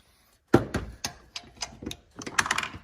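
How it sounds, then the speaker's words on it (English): A torque wrench set to 37 foot-pounds clicks while tightening an idler pulley bolt on a GM Chevrolet truck, producing a string of sharp, close ticks, then a faster cluster near the end. "You hear that click right there, then you know it's torqued okay"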